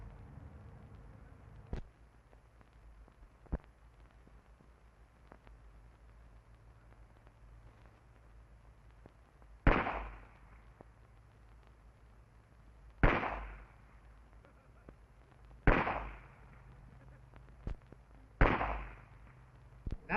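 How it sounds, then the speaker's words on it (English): Gunshots from police firearms training ring out at a range, four loud sharp reports spaced a few seconds apart, with fainter pops before them over a low steady background hum. "we sit down and fire 5 shots. Then we get behind the barricade and complete the 10 shots"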